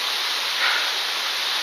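A wilderness waterfall roars as a steady, broad hiss of rushing water, loud and close, holding constant throughout with no voices.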